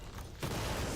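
Rockets and grenades fire in a Quake Champions duel: a muffled lead-in gives way to a sudden loud blast that rolls on as a dense, rumbling wash of explosions.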